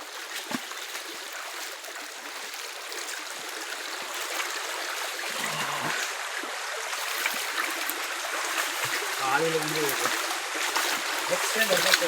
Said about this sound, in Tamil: நாங்கள் இன்றைக்கி வந்துக்கிற இடம் தான் கோனேரி வாட்டர் ஃபால்ஸ்.